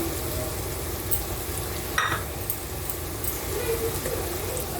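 Spice powders, chili, coriander and turmeric, going into a hot pan for a light Bengali chicken curry, giving a steady close sizzle with scraping stirring throughout and a brief sharper clatter midway.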